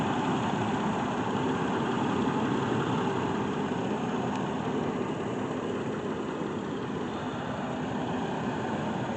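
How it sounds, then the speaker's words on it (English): A 1999 Ford Explorer engine idles while warming up, a constant even hum with steady broadband noise and no change in pitch, heard alone throughout. "Okay, she's running, she's idling."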